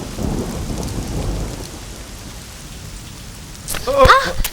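Steady rain falls during a thunderstorm, with low rumbling thunder throughout and a sharper, louder burst near the end, heard with no voices.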